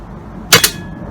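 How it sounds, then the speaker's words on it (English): A PCP air rifle fires a single pellet on a 180 bar air fill, a sharp, close crack followed at once by a second quick report or echo, then quiet room tone. "so the first shot, and this is on a 180 bar fill"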